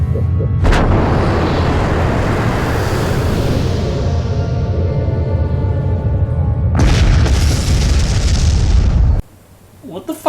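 A massive explosion from the disaster film 2012 Supernova rumbles loud and sustained with a deep low roar, a sharp blast near the start and another bright burst late, then cuts to near silence.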